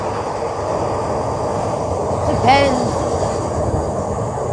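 A train rumbles past in a continuous loud roar with a brief metallic squeal partway through; someone says a single word over it.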